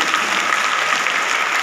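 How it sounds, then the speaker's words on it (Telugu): An audience at a 70th birthday celebration in a spiritual meditation gathering claps loudly in a steady, dense wash of applause that continues throughout. "ఒకసారి గట్టిగా క్లాప్స్ కొడుతుంది."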